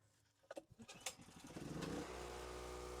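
A generator wired to a house electrical subpanel cranks with a few uneven bursts, catches, then settles into a steady, loud, continuous running drone.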